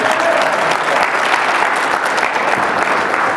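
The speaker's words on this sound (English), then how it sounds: "We need an applause for this guy." An audience applauds a volunteer during a live motivational seminar, a dense, steady burst of clapping from a crowd that fills the moment without pause.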